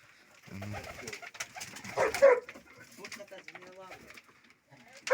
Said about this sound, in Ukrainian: так голубятня невеличка птиці небагато